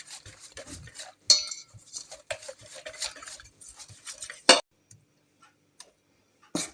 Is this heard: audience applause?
no